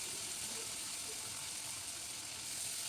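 Cauliflower florets fry in hot fish oil in a pan, giving a steady, dense sizzle that stays close and even throughout with faint bubbling crackles.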